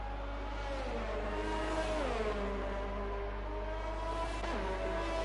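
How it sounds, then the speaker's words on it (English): F1 race car engine from the F1 2019 video game, driven through a tunnel at the U.A.E. Grand Prix, holding a steady loud whine with pitch sweeps as gears shift, continuous throughout. "As he has been passed by Tim, as we get a nice engine sound through the tunnel"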